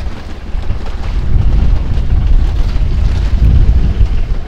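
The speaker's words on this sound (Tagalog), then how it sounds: "Ami-amihan ang hangin dito guys sa laot." Northeast wind at sea aboard a small boat, a loud, steady low roar of gusting wind buffeting the microphone, with faint water and engine rumble beneath, no talking.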